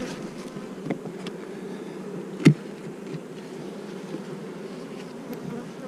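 Honeybees drone steadily around a cracked backyard hive as they carry pollen in, a close continuous buzz broken by one brief louder bee passing near.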